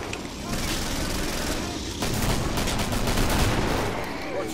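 Rapid bursts of heavy hand cannon gunfire in the video game Killing Floor crackle continuously, loud and close, with sharp repeated shots layered over dense battle noise.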